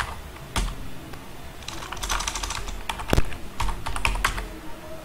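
Typing on a computer keyboard, a rapid run of crisp, close key clicks in uneven bursts with short pauses, heard alone without talk.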